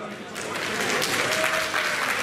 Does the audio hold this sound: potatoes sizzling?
no